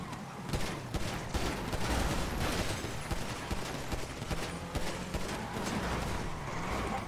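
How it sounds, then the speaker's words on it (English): Rapid volleys of gunfire in a roleplay video game crackle in dense, overlapping bursts, sustained and fairly loud across the whole stretch with little pause between shots. "They're shooting at us!"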